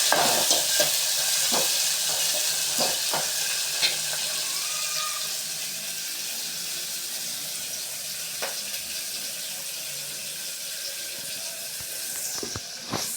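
Onion and tomato sautéing with salt in a pan for a potato masala, giving a steady close sizzle throughout with occasional light clicks and taps of a stirring utensil.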